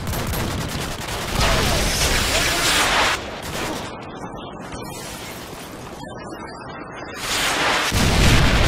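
A Predator missile strike explodes in a military shooter game, heavy booming blasts and crackling gunfire surging loudly, easing briefly, then swelling again, with a voice speaking in between.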